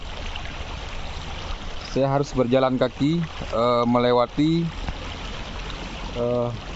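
A river in Tiro, Aceh, flows with a constant soft rushing wash beneath someone speaking in short phrases, the water steady throughout.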